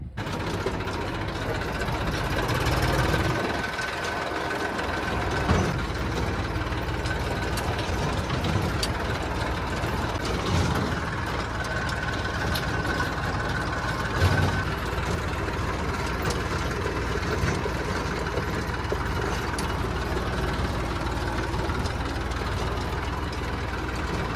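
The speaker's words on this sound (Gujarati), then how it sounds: "ટ્રેક્ટર લઈને પહોંચી ગયા છે ખેતર" A tractor engine idles at a farm field with a steady, close mechanical rumble and chugging that lasts the whole time. Faint bumps and background noises sit on top of it.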